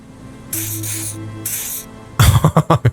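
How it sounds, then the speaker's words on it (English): Odd-smelling spray doused from a canister in the game Disco Elysium: two long hissing bursts, then a louder sequence of five short, sharp puffs close by, with no talking. "He douses you with the odd-smelling spray."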